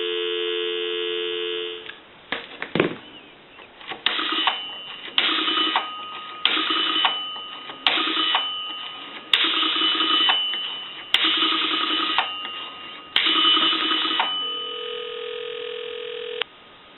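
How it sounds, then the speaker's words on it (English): A payphone on a regular telephone line gives a steady dial tone, then a run of repeated touch-tone bursts and line tones in short, evenly spaced blocks, ending on a clean continuous tone. "Give some dial tone."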